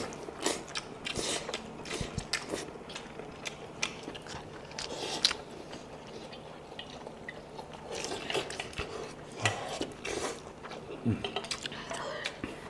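Soft chewing and biting over a home hotpot dinner, with faint clinks of cutlery and bowls. Quiet voices murmur now and then.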